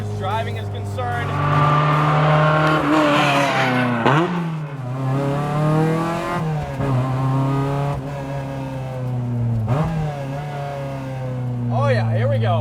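A 2000 Lotus Exige S1 with a light flywheel revs and pulls through the gears while driving, its engine note rising and falling in repeated climbs, heard close from inside the cabin.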